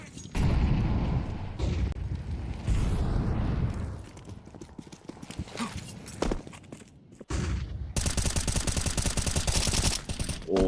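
Rapid bursts of USP pistol fire in a Counter-Strike match, with dense crackling volleys that pause and return and build to a sustained barrage near the end, mixed with other game noise.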